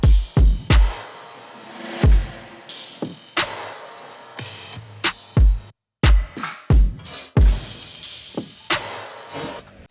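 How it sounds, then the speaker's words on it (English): A slow hip-hop drum track plays with punchy low kicks and bright, reverb-washed snares and hits, loud and alone, with a brief dropout near the middle. "they are carried by like a hip-hoppy type kick and a lot of reverby snares and hits in here"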